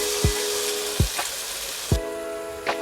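Masala paste fries with pork in a hot pan, a steady close sizzle broken by a few sharp swooping squeals as the food shifts.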